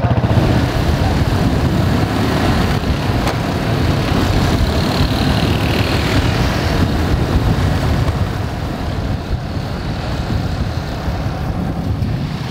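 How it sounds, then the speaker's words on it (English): Vehicle driving through floodwaters in Cité Soleil, Haiti, a loud continuous rumble of engine and rushing water close by, steady throughout with no talking. "Driving through the floodwaters again"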